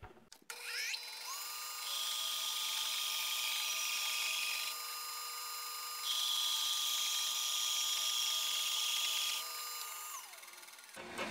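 Little Ripper chainsaw mill slicing a log, the chainsaw engine starting, then a loud sustained high buzzing cut that rises in pitch twice as it bites into the wood before winding down to stop.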